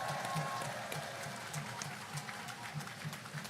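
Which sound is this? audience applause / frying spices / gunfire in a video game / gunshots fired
audience applause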